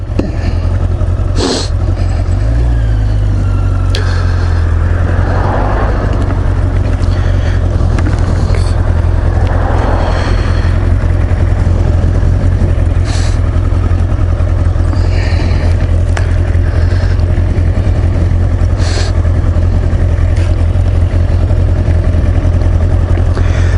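A Yamaha XJ900S Diversion motorcycle engine holding a loud, steady low drone close by, with small shifts in pitch as the rider drops down through the gears.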